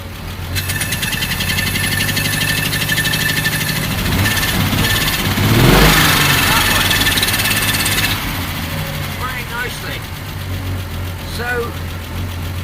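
A Triumph TR6 engine with fuel injector problems runs at a rough, uneven idle close by, its steady drone pulsing and slightly knocking, rising briefly in the middle before settling back.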